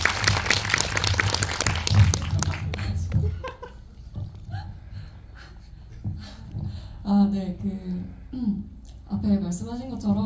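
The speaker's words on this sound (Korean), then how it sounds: "박수 부탁드립니다" Audience applause at a film screening Q&A fills the first few seconds with dense clapping, then fades as people begin talking and chuckling.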